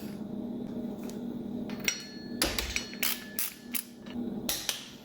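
A wrench clicks and clanks as flywheel bolts are torqued on a 1.8 Miata engine rebuild, giving a run of sharp metallic taps in quick, uneven bursts over a low background hum, with no voices.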